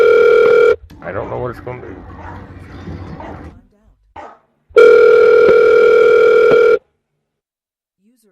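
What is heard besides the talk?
telephone ringing on a call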